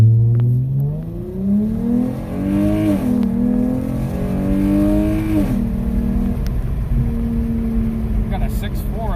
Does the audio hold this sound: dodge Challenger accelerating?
yes